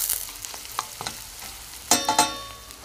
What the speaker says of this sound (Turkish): 2 dakika kendi kendine tereyağında, zeytinyağında soğanlar pişsin.